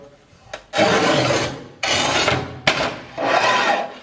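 A Montolit Masterpiuma P3 manual tile cutter, its scoring wheel lubricated with WD-40, makes three loud, close rasping strokes across a tile, separated by short pauses.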